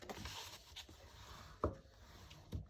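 Paper folds for a pop-up card are pressed with a bone folder: soft, quiet rubbing and scraping strokes, punctuated by two sharper taps near the end.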